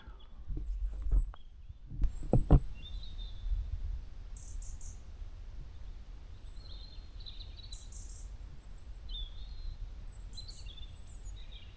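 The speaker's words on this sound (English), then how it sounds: "All you could hear is bird noises" Faint bird calls chirp now and then over a quiet outdoor hush in the Scottish Highlands in the evening, after a few low knocks and rustles near the start.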